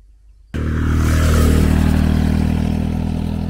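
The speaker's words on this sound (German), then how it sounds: "Oh, das war ein Soldat auf dem Motorrad." A motorcycle ridden by a soldier passes close by in Ukraine, starting abruptly from near silence into a loud, steady engine roar that holds for a few seconds.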